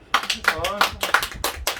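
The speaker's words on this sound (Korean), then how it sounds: "박수 한번 쳐줘." A few hand claps in an irregular rhythm, close and sharp, mixed with someone talking over them in a classroom-style interview.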